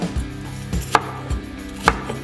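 A knife chops onion into small cubes on a cutting board, sharp distinct knocks arriving in an uneven rhythm about four times, close and clear with no talking.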